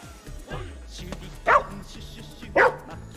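A dog in the video game Ghostwire Tokyo gives two short, loud barks about a second apart over quiet game ambience and soft background sounds.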